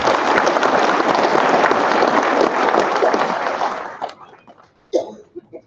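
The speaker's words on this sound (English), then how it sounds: "Y'all give her another round of applause." A crowd at a catfish tournament captains' meeting in Memphis claps in a loud, dense burst that fades out after about four seconds, leaving a quiet room with a couple of scattered knocks and brief sounds.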